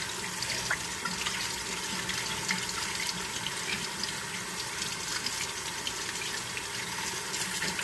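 Tap water runs steadily into a sink while food is washed, a close, continuous splashing stream with faint clinks and handling under it, and no talking.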